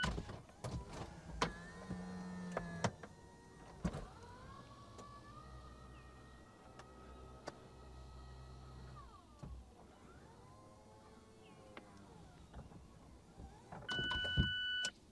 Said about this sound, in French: Mazda a ajouté le toit rigide rétractable que je vais actionner maintenant.